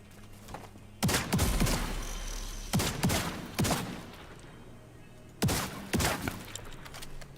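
Bursts of gunfire from a rifle in Division 2 ring out as several loud, sharp shot clusters separated by pauses, each trailing off with a short ring, over a low steady background hum.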